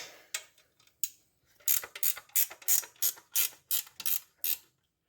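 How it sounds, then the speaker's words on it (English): A ratchet wrench loosening the AC compressor bolt on a 1972 Buick Skylark, a few scattered clicks and then a rapid, evenly paced run of sharp ratcheting strokes, close and crisp. "Just want to loosen this bolt here."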